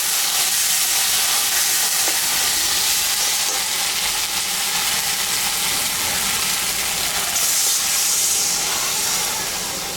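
Water poured into fried spices in a hot pan for a singi fish curry sets off a loud, continuous hissing sizzle that lasts the full ten seconds, steady and close.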